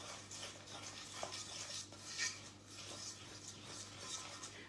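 Food is stirred in a pan in a home kitchen, giving faint, soft scraping and light clinks against a quiet, low hum.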